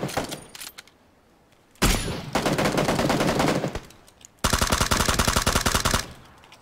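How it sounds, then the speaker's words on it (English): Gunfire in a battle royale video game, two long, loud automatic bursts of rapid evenly spaced shots separated by a quieter gap, with faint sporadic shots between. "Couldn't hear for all the fucking shooting"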